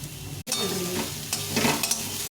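Nigella seeds and green chillies fry in a hot pan, a close crackling sizzle mixed with scraping stir strokes, cut off by two short breaks near the start and end.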